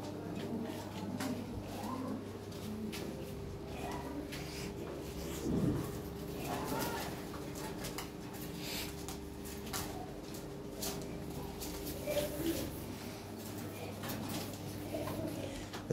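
Lahore Siraji pigeons coo softly in a loft, with faint intermittent calls and a few light knocks and rustles.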